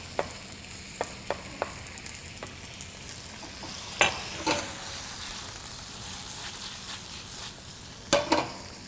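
Chopped tomatoes sizzling and frying in a pan for a sofrito, a soft continuous hiss with occasional stirring scrapes and clinks, fairly quiet and close with no talking.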